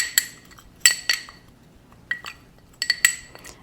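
A utensil stirring a dish, with sharp metallic clinks against the pot coming in scattered clusters, close and clear over a quiet background.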